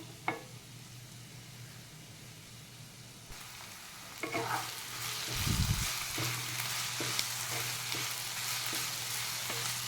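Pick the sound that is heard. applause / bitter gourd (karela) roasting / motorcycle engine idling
bitter gourd (karela) roasting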